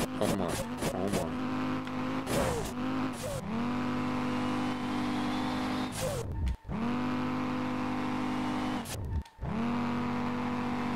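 Audi TT RS engine in the racing game Street Legal Racing Redline, set up for rear-wheel-drive drifting, revving hard and loud with repeated rises and drops in pitch, brief cuts between gears, and tire squeal throughout.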